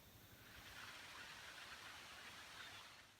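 Light rain falling in woods during a bow hunt from a tree stand, a soft, even hiss of drops on leaves, faint and continuous with no voices.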